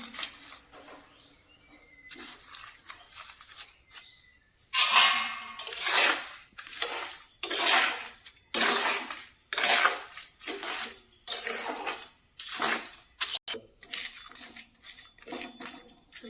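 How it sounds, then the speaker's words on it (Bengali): Seeds being roasted in hot sand in a pan, heard as repeated loud gritty scraping and rattling strokes, several in rhythmic bursts, close up after a quieter start. "মাথার বীজ বালিতে ভাজা হচ্ছে, ভাজছি"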